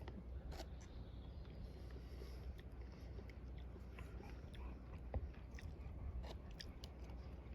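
Close, wet chewing and biting of a hearty, steaming chickpea dish with slightly crunchy chickpeas, eaten outdoors while camping, with steady soft mouth sounds over a constant low rumble of wind or outdoor background.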